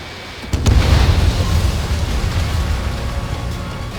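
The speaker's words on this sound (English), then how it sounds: "H2, missile away." Missile launch and blast in the combat flight game Ace Combat 7, a sudden deep boom followed by a sustained rumbling roar that fills the low end, loud and close.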